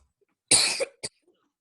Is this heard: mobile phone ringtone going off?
no